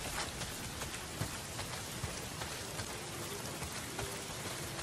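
Heavy rain pours down steadily in the Days Gone video game, a dense unbroken hiss of drops with scattered louder splashes and no voices.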